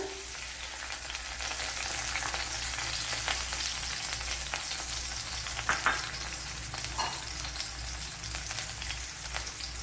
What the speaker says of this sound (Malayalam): അതിലേക്ക് ഒരു നാലഞ്ച് വെളുത്തുള്ളി ഒരു ചെറിയ പീസ് ഇഞ്ചി ഇത്ര ഇട്ട് കൊടുക്കാം ഇപ്പോൾ ഓയിൽ ചൂടായിട്ടുണ്ട് ഇട്ട് കൊടുക്കാം